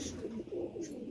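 Fancy Peshawar pigeons kept for sale coo in soft, rolling low throbs, several birds overlapping close by with steady moderate loudness.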